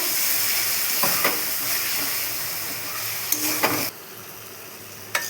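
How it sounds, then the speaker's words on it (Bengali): Chopped tomato and a little water hitting a hot pan give a steady, loud broadband sizzle throughout, with a few brief clicks and stirring scrapes, and no voices. "টমেটো কুচানো অল্প একটু জল দিয়ে দিব"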